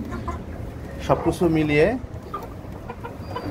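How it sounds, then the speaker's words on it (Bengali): Two farm hens and a cross Brahma pullet cluck softly in a poultry shed during a heat wave, with intermittent clucks beneath a man's nearby speech. "এখানে যে মুরগিগুলো দেখতে পাচ্ছেন 2টা ফার্মি, একটা ক্রস ব্রাহ্মা, এরা পুলেট।"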